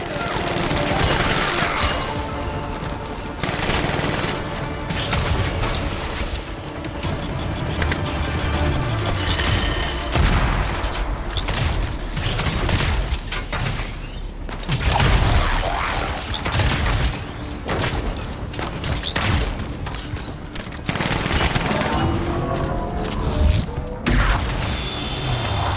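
Rapid gunfire and crashing impacts from shooting Scar enemies in the video game Anthem, dense and continuous over a busy bed of game music and effects, with a voice talking through parts of it.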